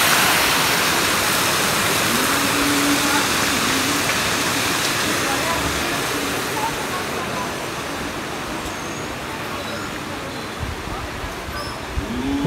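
Artificial waterfall in a temple park pours in a steady broadband rush, close and loud, holding evenly throughout with voices faintly mixed in.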